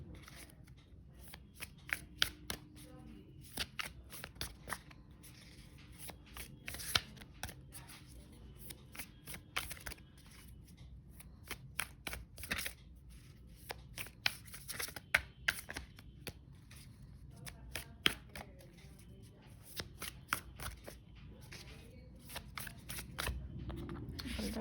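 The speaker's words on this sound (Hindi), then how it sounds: "मैं 3 कार्ड्स पुल करूँगी, पर्सनल, प्रोफेशन और एक हेल्थ के लिए।" Tarot cards shuffled steadily before a reading, a long run of quick, close riffling clicks and soft slaps continuing throughout at a low, even level.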